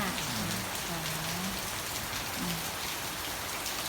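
Steady rain pours down outdoors in Nang Rong, a continuous dense hiss of falling drops, with a faint voice briefly murmuring underneath.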